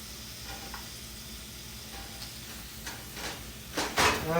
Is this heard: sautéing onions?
yes